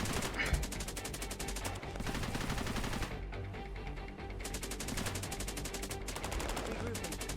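Sustained machine-gun fire from a gun nest in the strategy video game Cepheus Protocol, dense rapid bursts running almost continuously with brief pauses, loud and steady throughout.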